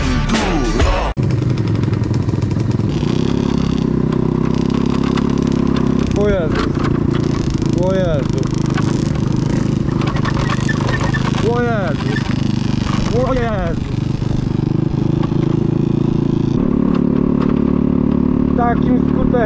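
A small scooter engine drones steadily while riding off-road over rough ground, with rattles and clatter, and voices talking over it throughout.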